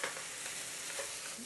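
Udon noodles stir-fry with spring onion in a hot pan, giving a steady, loud, continuous sizzle with faint scraping from stirring and no voices.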